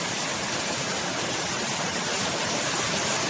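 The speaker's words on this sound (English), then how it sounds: "It's a 20 foot plus waterfall, that." Steady, dense roar of a waterfall more than 20 feet high at Wren Gill Quarry near Sadgill in the eastern Lake District, a continuous broadband rush heard up close with no voices.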